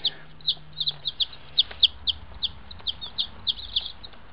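Baby chicks peep in a rapid, repeated series of short high chirps, close by and fairly clear over a soft background hum.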